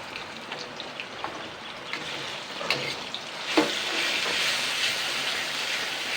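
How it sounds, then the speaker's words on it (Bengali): Two large onions' worth of paste frying in oil for a fish curry, a dense close sizzle with scattered spoon taps that swells louder as the paste hits the hot oil. "এবার আমি 2খানা বড় সাইজের পেঁয়াজ বাটা দিয়ে দিচ্ছি"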